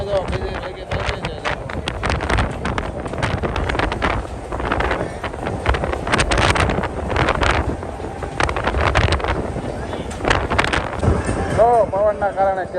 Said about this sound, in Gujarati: તો પવન આવે એટલે તમને હમણાં એની પવનનો જ અવાજ આવશે એકલો.